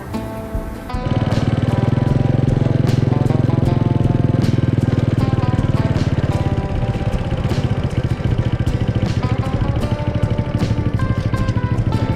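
Motorcycle engine running steadily and loudly throughout while the bike is ridden along a path toward a bamboo grove on the way to a fishing spot in Saraburi, with a constant mid-pitched drone and faint clatter.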